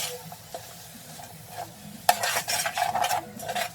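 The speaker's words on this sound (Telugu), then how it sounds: "తర్వాత క్యారెట్స్, మిరపకాయలు, అలాగే కొత్తిమీర, పుదీనా కలిపి దాంట్లో వేసుకొని మళ్ళీ మిక్స్ చేసేసుకోండి." Carrots, chillies, coriander and mint are mixed into egg biryani in a pan: quiet sizzling at first, then a loud clack and a run of brisk scraping, clattering stirs close by, with no speech.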